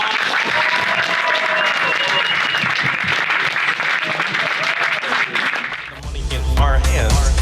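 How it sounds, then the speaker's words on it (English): A town hall audience in Iowa City claps in sustained, loud applause, and a chanting crowd rises in the final seconds. "Can we give our panel a round of applause?"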